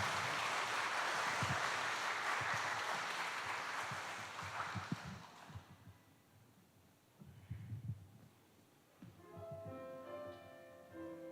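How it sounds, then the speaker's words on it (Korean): A church congregation applauds a soloist in a dense, sustained patter of clapping that fades out midway, followed by quiet room tone and the first soft notes of music. "나올 때 우리 박수를 한번 우리 또 청해 주겠습니다"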